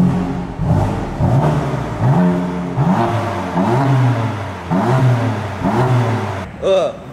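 BMW engine blipped repeatedly in Sport Plus mode, about five or six loud close revs that rise and drop in quick succession, with a sharper final burst at the end.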